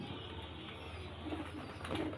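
Pair of pigeons coos softly at a dealer's loft, low murmuring calls rising briefly over a steady background hum, faint and close.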